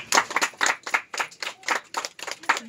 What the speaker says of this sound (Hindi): चलिए सभी लोग ताली बजाएंगे